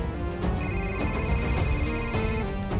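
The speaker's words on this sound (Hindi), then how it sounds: "उसी का फोन आ रहा है सर।" A phone rings with an electronic ringtone: steady repeating tonal pulses about every half second, loud and close, with no voices over it.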